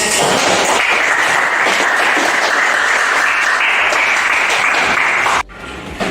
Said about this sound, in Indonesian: berikan aplaus untuk kelompok ini